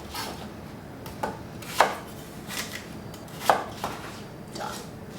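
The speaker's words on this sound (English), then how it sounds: "cut them all in half, and then go ahead and cut the halves in half, and then cut out the core" Knife chopping through apples on a cutting board, quartering them and cutting out the cores: several sharp, distinct cuts spaced irregularly, close and fairly quiet, with no talking.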